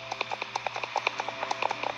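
Horses in a horse-riding video game stable make a steady run of soft, evenly spaced hoof clops with faint snorting tones, close and moderately quiet, with no talk over them.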